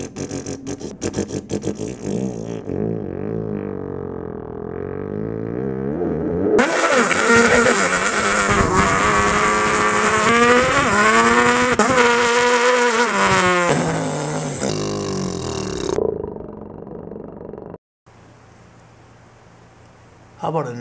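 A voice mimics a Peugeot 206 rally car engine: a buzzy idle, then a long, loud, wavering rev with rising and falling pitch, easing off into quieter sputters near the end.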